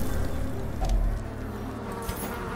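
Bees buzzing from a hive curio in the dark fantasy game Darkest Dungeon, a steady insect drone with a brief louder swell, blended with the game's ambient background and no talk.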